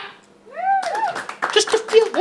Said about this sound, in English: any religious people in the house, clap